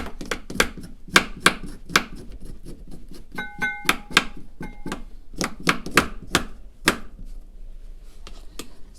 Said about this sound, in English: So peel the ginger.